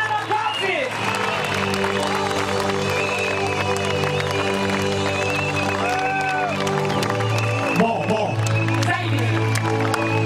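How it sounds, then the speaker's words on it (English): Congregation at a healing service in Kericho clapping steadily for about ten seconds, dense and sustained, with musical tones and voices mixed in throughout. "Somebody clap to the Lord"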